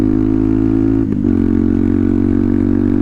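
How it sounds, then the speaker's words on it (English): A motorcycle engine idling through an exhaust with an extra quiet baffle, a steady, muted rumble with a brief dip partway through. "This exhaust, it still does have that womp"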